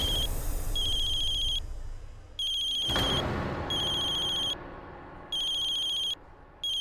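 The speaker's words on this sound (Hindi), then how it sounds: "ये किसका फोन रिंग हो रहा?" A phone ringtone chirps in repeated electronic bursts with short gaps between them, and a single sharp thump lands partway through.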